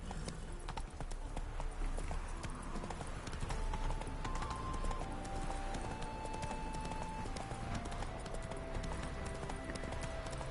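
Roach, Geralt's horse in The Witcher video game, trots along with a steady, even clip-clop of hooves that carries through the whole stretch, set against a busy game soundscape of ambience and music.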